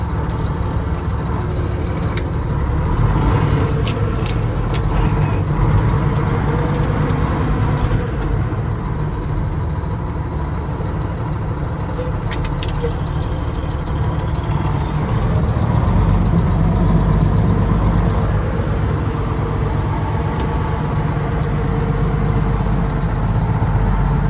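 A Mack RD688S truck engine drones loudly and steadily while driving, with low rumble throughout and brief shifts in tone as gears change.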